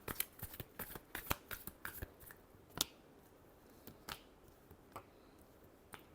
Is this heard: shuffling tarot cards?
yes